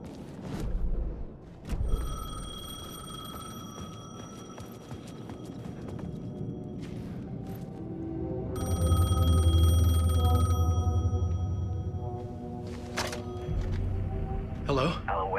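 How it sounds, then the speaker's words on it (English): A payphone rings in the Alan Wake 2 video game, its bell-like tones repeating over a dark, rumbling in-game ambience with low thuds and movement sounds. "The payphone was ringing."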